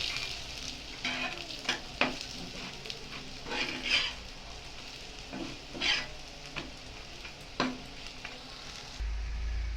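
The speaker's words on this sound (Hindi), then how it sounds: "अभी मैं सब फूल का पकौड़ा को मैं पलटा रही हूँ, पलटा के पका रही हूँ उल्टा साइड" Pumpkin flower pakoras fry in hot oil with a continuous sizzle, while a spoon turns them over in several distinct scraping clinks spread across the stretch.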